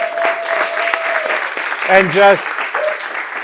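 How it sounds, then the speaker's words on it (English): An audience applauds a speaker at a crypto and blockchain class, a steady wash of clapping running through the whole stretch while a voice speaks briefly over it partway through. "So please, a big applause for Tim."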